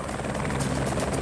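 A spotter plane flies overhead during an elephant rescue operation, its engine a loud, steady droning buzz that fills the moment without any speech.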